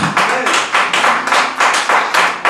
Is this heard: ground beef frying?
no